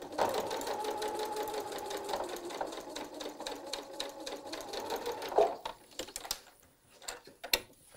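A home sewing machine stitches quilt fabric in a steady, rapid mechanical chatter for about five seconds near the listener, then stops, followed by a few light handling clicks and taps.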